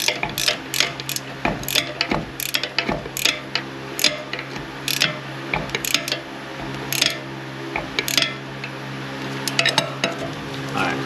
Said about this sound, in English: What's nice about these wrenches is they got that lip right there, so I can still reach in there and do that.